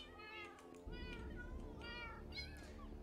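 Several Minecraft cats meow in repeated rising-falling calls, spread across the moment, close and clear over a steady low background hum.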